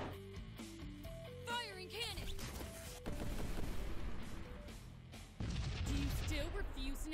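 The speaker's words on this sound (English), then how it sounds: "Firing cannon." Spaceship cannons fire in the video game Sunrider: Mask of Arcadius, a string of heavy booming shots and bursts layered over game music, with a voice speaking at times.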